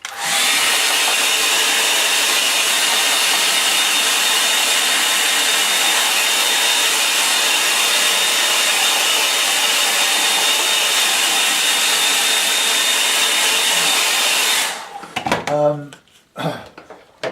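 A hair dryer blows steadily and loudly on a watercolour painting, a constant close whoosh that cuts off near the end, followed by brief clatter.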